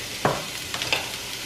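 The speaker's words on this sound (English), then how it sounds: "So I'm gonna add the onion first and then I'm gonna cook that before I add the ground beef." A large chopped onion sizzles in a cast iron skillet, a steady close hiss with a couple of brief stirring scrapes.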